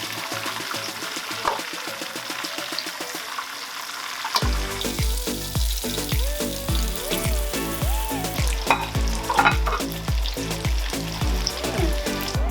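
Chicken pieces frying in hot oil in a pot, a loud steady sizzle throughout with rhythmic clunks of stirring or lifting pieces in the second half, no voices.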